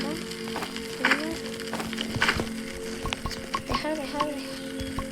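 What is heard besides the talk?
cooking steaks in Roblox 99 Nights in the Forest video game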